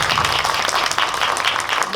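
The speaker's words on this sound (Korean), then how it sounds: "관객분들이 이윤지 배우님께도 좀 용기 내라고 큰 박수 부탁드릴게요" A film-talk audience claps loudly for an actress at a Korean GV screening event for the movie Dream Palace, dense continuous applause close by from start to finish.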